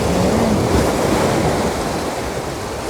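Sea surf rolls onto the sand at Saeng Chan Beach in Rayong, Thailand, a continuous loud wash mixed with wind buffeting the microphone, with no voices.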